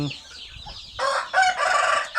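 A hen and chicks cluck loudly and close by in bursts, with a quieter stretch of soft fowl sounds before the louder clucking starts.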